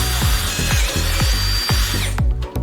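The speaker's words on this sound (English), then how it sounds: "Drilling holes in iron plates." A cordless lithium drill, the CF-SID009, bores holes through iron plate in short repeated bursts, each spin-up followed by a grinding bite into the metal, close and loud with no talking.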